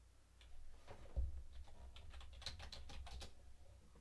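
Rapid clicking keystrokes on a computer keyboard, a close, quiet burst of irregular taps lasting several seconds with no voices.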